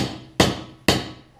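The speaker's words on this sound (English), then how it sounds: "I'm going to grab a hammer and a punch. We're going to try and drive this sleeve out." Two sharp, loud metallic hammer blows on a punch, about half a second apart, each ringing briefly as the punch drives a swing-arm bearing sleeve out of a Suzuki LT250R quad.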